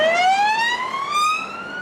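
An emergency vehicle siren wails nearby, one clear, loud tone gliding steadily upward in pitch over about two seconds, with a faint road rumble underneath.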